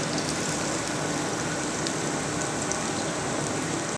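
Chicken pieces frying in a pan for homemade curry, a dense steady sizzle and crackle, close and even throughout.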